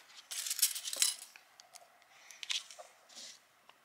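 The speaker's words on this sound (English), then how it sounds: "So we're just going to give that a stir." Mowbray foil gel nail polish being stirred in its small pot, giving faint, close clicks and light scraping taps that come in irregular bursts and then fade into quiet gaps.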